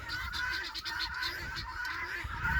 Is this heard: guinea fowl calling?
yes